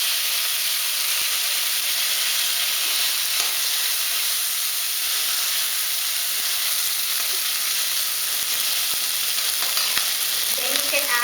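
Two large green chilies and curry leaves frying in hot oil for a ladies finger gravy, a steady bright sizzle and hiss held throughout with light crackling spits, close and unbroken, no voices.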